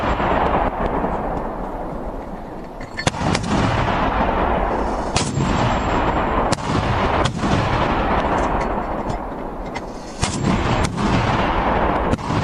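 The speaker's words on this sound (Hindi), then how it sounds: "पाकिस्तान ने तोपे उतार दी मैदानी जंग में" Pakistani artillery cannons fire on Afghan army positions in a continuous rumbling barrage. Several sharp, heavy booms punch through the roar, and no voices are present.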